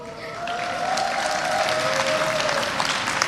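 Sustained applause fills a hall at a university convocation, a crowd clapping steadily and densely for several seconds after a brief quieter start, with a faint tone running through it.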